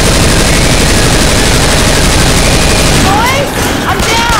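Dense, loud automatic gunfire blasts nonstop at the Witch in Left 4 Dead 2, a continuous rattling barrage with shouting voices and a brief screech near the end.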